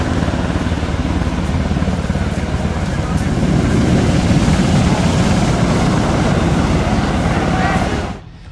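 Heavy, continuous rotor roar of a rescue helicopter over rough surf at a beach on Kefalonia, mixed with crashing waves, loud and steady, fading out abruptly at the end.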